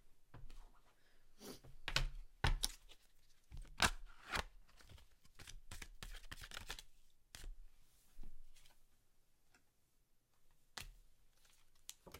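Goddess Guidance oracle cards being shuffled by hand, close and quiet, in repeated short bursts of riffling and sliding card noise with pauses between, no talking.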